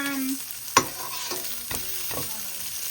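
Okra frying in oil in a pan, a steady close sizzle broken by a sharp utensil clank and a few scraping stirs.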